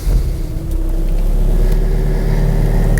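A 2019 Mazda CX-9 engine starting from inside the cabin, a brief crank then a steady low idle rumble that settles and holds.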